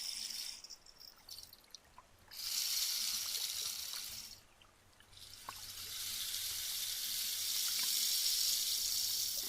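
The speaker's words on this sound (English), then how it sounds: "some light puddles of water, and you splish and splash along like you haven't done since you were a kid" Footsteps splashing through light puddles of water on a rainy street, a soft hiss of splashes that swells, fades briefly, then returns steadily at moderate loudness.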